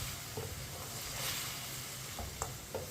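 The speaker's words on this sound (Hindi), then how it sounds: "आप इसे 4-5 मिनट के लिए चम्मच चलाते हुए भून लेंगे।" Mutton karahi meat frying in a wok as a spoon stirs it, a steady low sizzle with a few light scrapes of the spoon, close and alone.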